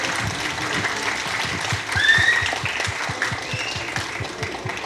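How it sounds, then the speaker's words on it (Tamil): An audience at a film press meet gives steady, moderate applause of many hands clapping, which swells briefly midway. "நம்ம டாக்டர் ஜெயந்திலால் காடா அவர்களுக்கு ஒரு நல்ல கைத்தட்டல் கொடுத்துடலாம்."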